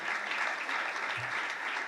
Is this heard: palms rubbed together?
no